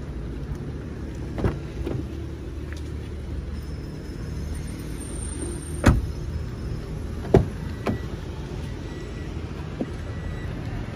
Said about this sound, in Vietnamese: Kính bên lái lên xuống tự động